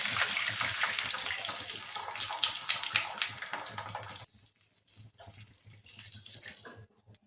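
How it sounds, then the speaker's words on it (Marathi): Two cups of water are poured into a hot pan holding fried chillies and ginger. A strong splashing gush lasts several seconds, then a quieter trickle and faint bubbling follow. "आता त्याच्यात घालूयात आपण 2 वाट्या पाणी"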